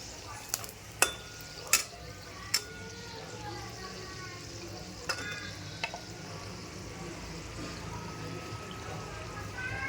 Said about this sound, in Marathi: सगळ्या तळून घेऊयात